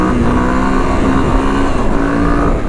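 A Honda XR200 motorcycle engine pulls hard in fourth gear on a practice loop, a loud, close, steady drone that holds its pitch with a slight waver throughout.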